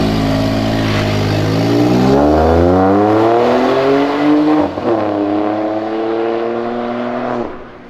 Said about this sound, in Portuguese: Isso que é saída de carro